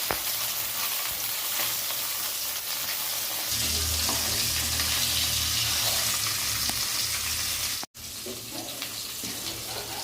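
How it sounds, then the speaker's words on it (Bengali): Fish, a type called foloi, sizzles steadily as it is fried in hot oil in a pan, a dense continuous crackle that swells louder midway with a brief cut near the end. "মাছটাকে আমরা ভালোভাবে ভেজে নেব, 2 পিঠ লাল হওয়া অবধি আমরা ভেজে নেব।"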